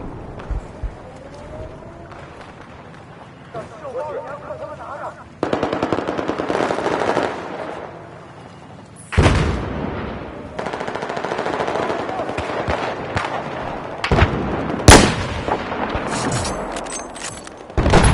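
Machine gun fire in the video game Battlefield 4, loud rapid bursts and sharp single shots recurring throughout amid explosions and battlefield noise.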